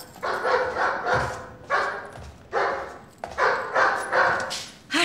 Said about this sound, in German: hör auf zu bellen und zu heulen